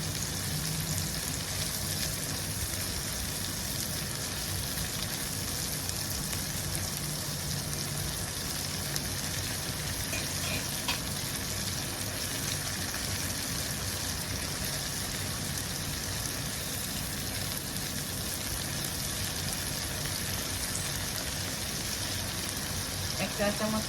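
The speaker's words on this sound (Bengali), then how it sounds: "শুটকিগুলিও আমি পেঁয়াজের সাথে ভেজে নিচ্ছি।" Dried fish frying with onions in a pan, a steady dense sizzle and crackle that runs unbroken throughout at an even level, with faint hints of voice underneath.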